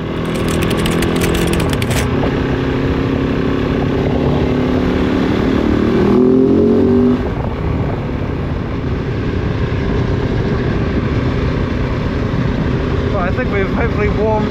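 A Kove 450 Rally motorcycle is ridden hard through corners, its single-cylinder engine revving up and down in loud rasping bursts under heavy wind roar, with gear shifts and engine drops between surges.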